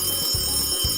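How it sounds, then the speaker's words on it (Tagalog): A telephone ring sound effect in a radio show jingle, a loud mechanical bell trill in two quick bursts over a dense, bright broadcast bed. "kapag darinig mo na ang mahiwagang kring kring"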